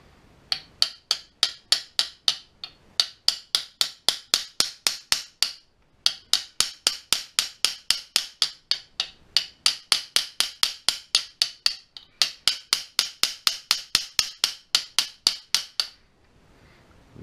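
Rapid, steady hammer blows drive a mini lathe axle through in a vise, ringing out in long runs of sharp metallic strikes, pausing briefly a few times before starting again.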